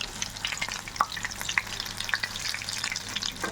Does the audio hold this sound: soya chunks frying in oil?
yes